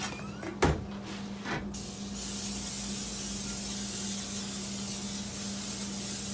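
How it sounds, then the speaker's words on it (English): Non-stick cooking spray hissing onto a baking pan for biscuits in a home kitchen, a steady close spray that runs for several seconds after a few quick clicks and knocks of handling. "So we'll spray our pan."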